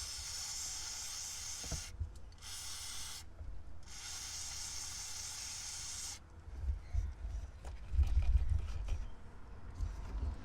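A WD-40 spray can hisses in bursts into a dashboard electrical connector, several short sprays in a row, followed by low handling knocks and rustling up close.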